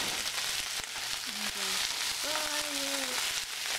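Shrimp for adobo sizzling in a pan, a steady broadband hiss of frying that runs through the whole stretch while brief tonal voice sounds rise over it.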